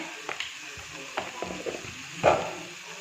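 Turmeric and chili powder fry in a pan as a spoon stirs them, a faint sizzle broken by scattered scraping taps and one louder clatter near the end.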